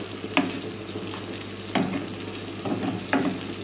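Onions and grated tomato fry in a pan for Turkish-style eggs. A steady sizzle runs throughout, with a few brief stirring clatters cutting through, close by and without speech.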